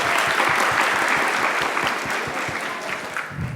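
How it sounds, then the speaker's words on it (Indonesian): At an Indonesian youth leadership forum, an audience breaks into applause, a loud, dense burst of clapping with some rhythmic claps, holding steady for a few seconds. "Tepuk tangan dong, tepuk tangan."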